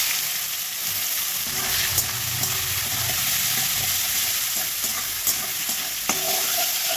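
Sliced onions frying in a pan with bay leaf, whole garam masala and cumin give a steady, loud sizzle while a spatula scrapes and stirs, with occasional knocks against the pan.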